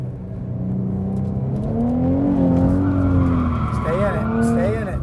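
Ford Mustang drifting with its tires squealing loudly in long, wavering whines over steady engine roar, continuous and close throughout.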